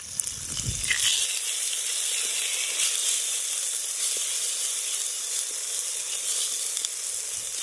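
Aloe vera sautéing in a pan with onion, garlic and ginger gives a steady, close sizzling hiss that holds evenly throughout, with a short stirring clatter near the start.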